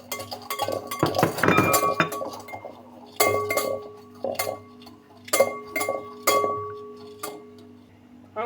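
A spoon or whisk clinks and scrapes against a bowl while egg, salt and sugar are mixed for a flan cake, giving repeated sharp metallic taps in uneven bursts.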